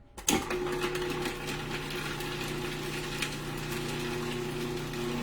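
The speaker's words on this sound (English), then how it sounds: "always put it in first into a clean, dry food processor, and that will mince your garlic." A food processor minces garlic cloves for pesto: its motor kicks in abruptly and runs with a steady, loud mechanical whir for the rest of the clip, with no talking.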